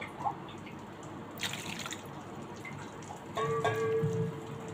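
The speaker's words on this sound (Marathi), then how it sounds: "2-3 वेळा चांगले पाण्याने धुवून घ्यायचे" Small potatoes are washed under running water at a sink, with soft trickling, a few drips and splashes, and a louder gush near the end. The sound is close and fairly quiet.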